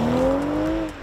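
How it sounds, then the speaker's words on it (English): A 2021 BMW M440i xDrive coupe brakes hard with enhanced M brakes, a brief loud tonal squeal gliding slightly upward over road and engine rumble, close and alone. "Time to check out the enhanced M brakes."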